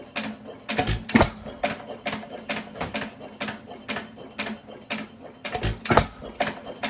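A hit-and-miss engine running quietly gives a steady, evenly spaced train of sharp mechanical clicks and thumps, close and moderately loud, with no voices.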